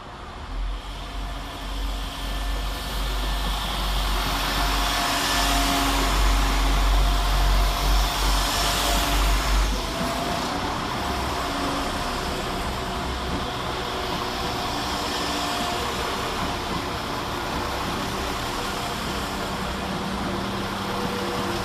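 Two West Midlands Railway diesel units, 172341 and 172337, crawl up the incline at Birmingham Snow Hill, producing a steady mechanical rumble and hiss. A deep low throb fades after about ten seconds, and the drone continues alone.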